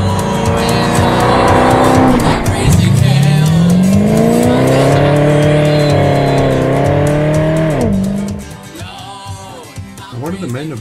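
A Jensen Interceptor MK3 with a 7.2-litre V8 drives past loud and close. Its engine drone rises and falls through the gears for several seconds, then fades into quieter rumbling.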